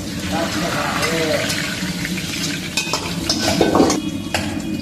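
Diced capsicum and onion stir-fried in a pan for a Chinese-style dish, with a steady sizzle under scraping and clinking of a utensil against the pan, close up.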